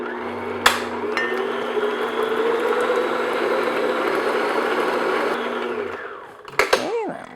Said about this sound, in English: I'm just going to beat those 2 together